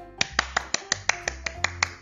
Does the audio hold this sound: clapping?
yes